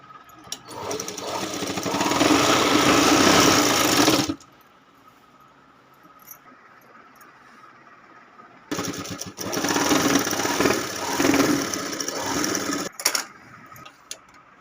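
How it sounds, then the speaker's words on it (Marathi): A sewing machine stitches the border of a quilt made from an old saree, running loudly in two bursts of about four seconds each, separated by a quiet pause with faint clicks. "तर चला आता आपण ह्या तिन्ही टीप मारून घेऊयात"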